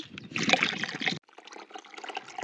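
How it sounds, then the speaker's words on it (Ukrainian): Water pours into a bucket of tomato waste, a close splashing gush that breaks off and then continues as a lighter trickle and slosh. "Берете відро, заливаєте свої оці відходи водою."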